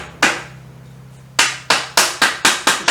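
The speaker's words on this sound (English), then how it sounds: "bump on the sandbag with that round bossing hammer" A round bossing hammer taps sheet metal resting on a sandbag: one sharp close strike, a pause over a low background hum, then five quick, evenly spaced blows.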